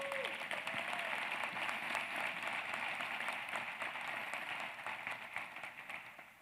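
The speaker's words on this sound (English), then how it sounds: "Round of applause for the mayor." Audience applause for the mayor at a university public health convocation ceremony, a dense, steady wash of clapping from a large crowd, fairly distant, fading slightly toward the end.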